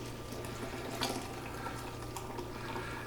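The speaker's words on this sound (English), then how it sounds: "You must pour carefully so that you don't spill it on yourself or your counter." Hot water is poured into a French press coffee maker, a continuous soft, splashing trickle that stays faint and steady, with a low hum underneath and no talking.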